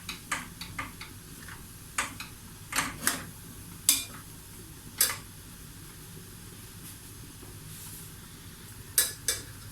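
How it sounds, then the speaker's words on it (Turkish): Flour toasting and being stirred in a pot for potato soup, heard as sparse, quiet scraping clicks and taps of a spoon against the pot over a faint low sizzle. "Şimdi şöyle unumuz kavruluyor bakın canlarım."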